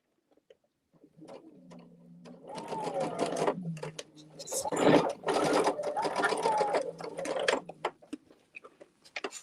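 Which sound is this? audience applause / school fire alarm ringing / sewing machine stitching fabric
sewing machine stitching fabric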